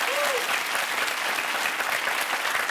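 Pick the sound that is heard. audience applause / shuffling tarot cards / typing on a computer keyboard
audience applause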